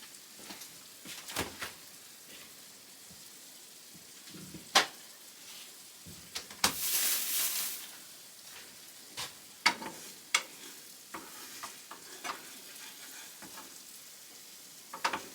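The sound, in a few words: eggs and vegetables frying in a pan for stir-fry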